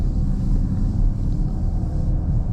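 A 2024 Chevy Camaro SS Collectors Edition V8 rumbles steadily while driving, with exhaust in track mode giving a loud, continuous low-frequency drone and some wind noise, no voices.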